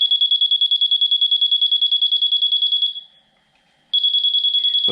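A Bosch GRL800-20HV self-leveling rotary laser level gives a fast, loud run of high-pitched beeps. The beeping stops for about a second, then the same rapid pulsing starts again, with no voices.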